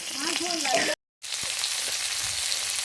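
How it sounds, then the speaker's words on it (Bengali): Fish fries in a pan with a continuous crackling sizzle. A voice is briefly heard at the start, and the sound cuts out for a moment before the frying resumes steadily. "এখন মাছ ভাজা হচ্ছে মাছের ঝাল বাটনা করবো"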